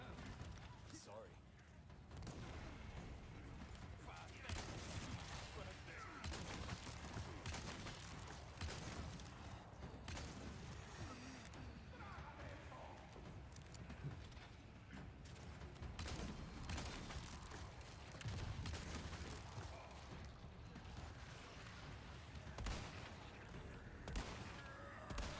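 Gunfire in the Resident Evil 4 video game rings out as rapid, repeated shots over a constant noisy backdrop, with a person talking over the action.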